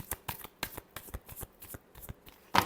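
Tarot cards are shuffled by hand in quick, close, rhythmic riffles, about a dozen soft slaps ending in one louder snap, with no talk.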